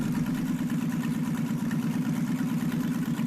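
A buggy's engine idles in a video game with a steady, close, low rumbling drone and an even pulse that holds for a few seconds without talk.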